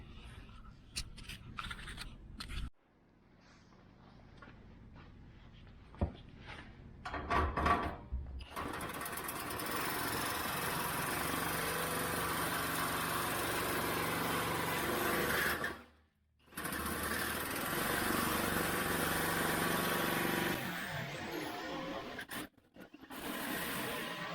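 A nibbling power tool chews small crescent-shaped pieces out of the metal cowl of a 2000 Chevrolet Camaro. It makes a long, steady, buzzing cutting noise, loud and close, broken by a few brief pauses.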